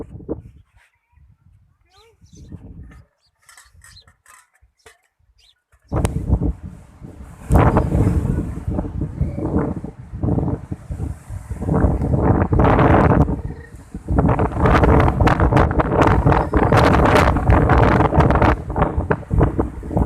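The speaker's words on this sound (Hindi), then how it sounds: "इतनी तेज हवा है बारिश के साथ में" Strong wind with rain sweeps through a village, a loud gusty roar buffeting the microphone after a quieter opening of scattered sounds, with a voice speaking over it.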